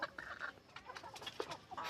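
Chickens cluck on a poultry farm, faint overlapping short calls in an irregular rhythm, heard alone at low level.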